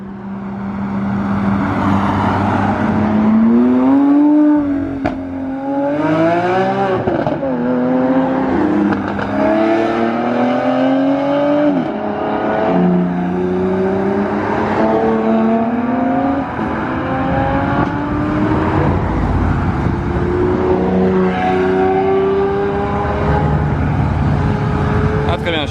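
A Bugatti Chiron Sport hypercar drives past on an airfield, loud and close, its engine revving and shifting through repeated rising pitch sweeps over a sustained roar.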